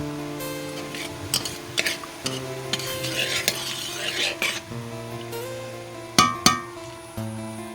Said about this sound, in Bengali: আর সর্ষের তেল ঢেলে দিলাম